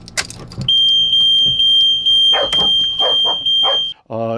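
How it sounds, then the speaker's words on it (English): A shrill, continuous electronic warning tone from an RV's leveler alarm, triggered with the engine on and levelers down, sounds close by, steady and piercing for a few seconds, with clunks and brief rustling around it before it stops. "If you turn the engine on and the levelers are down, there's an alarm that goes off."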